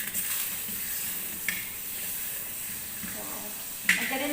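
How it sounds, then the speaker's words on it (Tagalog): Margarine melting in a hot frying pan gives a soft, steady sizzle with a couple of brief spits and pan sounds, fairly close and moderate in level. "mainit na yung ating kawali. Lalagyan na natin yung ating margarine."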